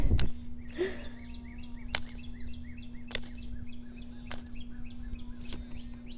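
Repeated bird chirps and short tweets continue throughout, fairly clear above a constant electrical hum, with occasional sharp clicks and a thump at the start.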